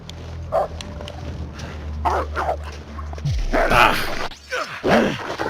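Wolves in The Long Dark snarl and yelp through a struggle, with short growls and whimpering cries rising in bursts over a low droning background, loud and close.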